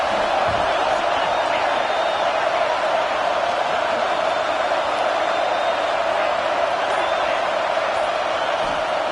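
A steady, dense roar of a large video-game stadium crowd at Alabama's Saban Field on third down in NCAA 26, loud and continuous with no breaks, like sustained game-day crowd noise.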